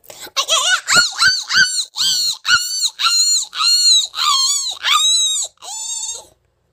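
A voice imitates a dog yelping after being hit by a stone: a rapid string of sharp, high cries followed by longer whining howls, loud and close, then silence.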